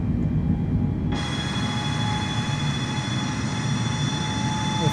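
In Microsoft Flight Simulator, an airliner stuck on the runway throttles up, and the engine noise suddenly jumps into a loud, broad, continuous roar at full power that stays steady to the end.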